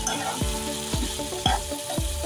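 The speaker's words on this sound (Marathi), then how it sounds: "आता हे मस्तपैकी मिक्स करून घेऊया." Chicken mince sizzles steadily in a nonstick kadhai while a spoon scrapes and stirs it in four evenly spaced strokes, the frying hiss continuous underneath.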